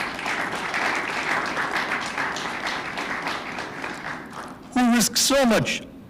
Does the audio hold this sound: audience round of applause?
yes